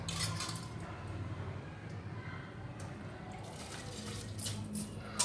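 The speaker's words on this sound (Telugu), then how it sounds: "ఒక గ్లాస్ బియ్యం బాస్మతి రైస్ చక్కగా నీటిలో పోసాను" Basmati rice rinsed in water at a kitchen sink, with steady running and sloshing water and light clinks of a vessel, fairly close and continuous.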